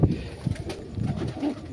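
Mirabbala Punjabi Malwai pigeons coo nearby in low, soft, throaty bursts, repeating a few times in quick succession.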